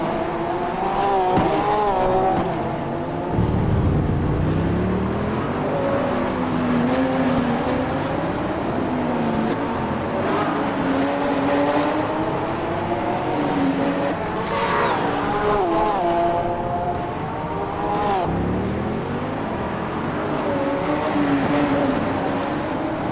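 Race car engines in a virtual modern sportscar championship race at Detroit, several cars revving and shifting in a continuous loud drone with rising and falling pitch, close by and without talking.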